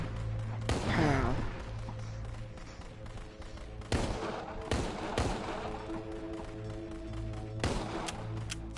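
Gunfire in the VR zombie game Arizona Sunshine comes as a few separate sharp shots spread over several seconds, some single and some in quick pairs, above a steady low background hum.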